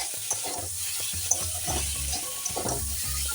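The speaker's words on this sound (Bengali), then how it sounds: "ভিজে রাখা উচ্ছেটা আমি এখন দিয়ে দিচ্ছি বেগুনটা পরে দেবো উচ্ছেটা দিয়ে একটু নেড়ে করে নিচ্ছি" Bitter gourd tumbling into a hot pan with turmeric and being stirred for a Bengali shukto, giving steady sizzling frying under repeated scraping and stirring strokes, close and continuous with no talk.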